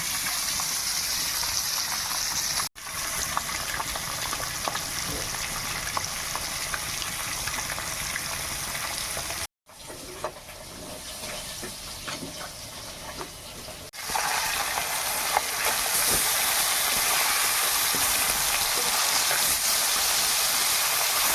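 Pieces of rohu fish frying in very hot oil, sizzling and spattering loudly and continuously, interrupted by a couple of brief cuts, with no voices.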